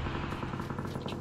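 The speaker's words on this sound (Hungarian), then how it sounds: "Az gránát volt." Grenade blast in an online shooter video game, a short dense rumbling burst with crackling debris that fills the brief moment at moderate loudness, no speech.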